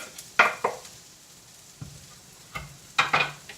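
Garlic and jalapenos drop into a hot pan, giving a few sharp sizzling bursts and scraping stirs, with quiet gaps between them.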